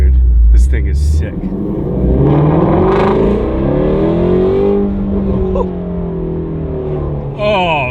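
A Shelby GT350R engine revs up and settles in a few swelling, close-up pulls, with excited voices talking over the engine noise.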